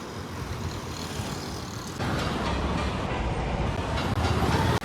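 A train rumbles past close by, its steady roar of wheels and rail clatter swelling louder about halfway through and holding to the end, with no voices.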